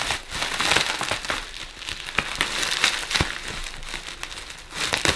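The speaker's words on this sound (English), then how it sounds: "I'm too eager to open the cleaner, so it's out with the scissors" Bubble wrap packaging from a vacuum cleaner box crinkling and crackling as scissors cut it open, with irregular sharp snips and rustles over several seconds.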